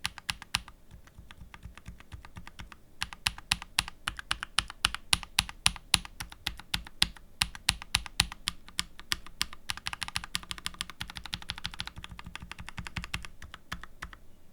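Close, crisp clacking of typing on a Nuphy 75% keyboard with Night Breeze linear switches, some of them mushy. Keystrokes come in quick, uneven bursts that grow denser toward the end.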